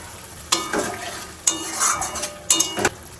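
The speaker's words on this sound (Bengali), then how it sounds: "ঝোল ফুটে গেছে এবার দিয়ে দেবো মৌরলা মাছগুলো এবার দিয়ে দেবো সরিষা বাটা" Mourala fish and mustard paste go into a boiling curry in a pot, and three separate bursts of splashing and stirring rise over a low bubbling simmer, close and fairly loud.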